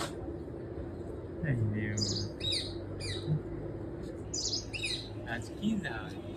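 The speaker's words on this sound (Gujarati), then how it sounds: "પોપટ બોલે છે" A parrot gives several shrill, squawking calls in short bursts, fairly close, in a village home, over a low background hum and faint voices.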